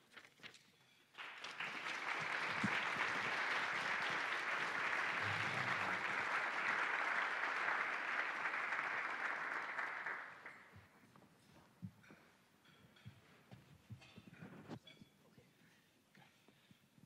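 An audience at a university provost's seminar on teaching applauds to welcome the panelists, a loud sustained clapping of many hands lasting about nine seconds, then fading into quiet room noise and a few shuffles.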